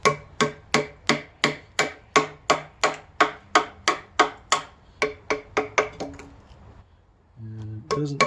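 A mallet striking a chisel into timber while cutting a timber-frame gazebo joint, about twenty sharp, evenly spaced blows close by that slow and stop, then faint scraping and a brief rub at the end.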